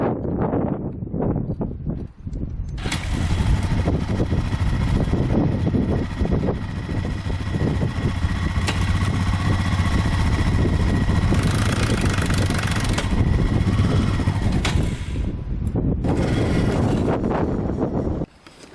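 A Yamaha Raptor 660R ATV engine runs loud and close, a rough continuous roar with wind buffeting the microphone, softer rumbling at the start and end around the sustained run.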